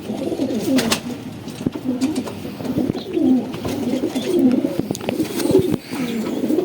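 Pigeons of a striped (patti wali) cross breed coo steadily and close by in low, rolling calls, repeated throughout, with a few sharp clicks and taps mixed in.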